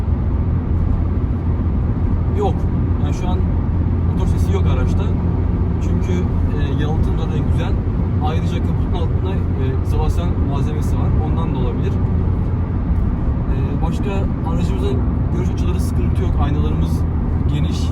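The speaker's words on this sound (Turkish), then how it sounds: "Motor sesi şu an dinliyorum." A steady engine rumble from a SEAT Ibiza 1.2 TSI and road noise fill the inside of the moving car, with a person talking over the constant drone.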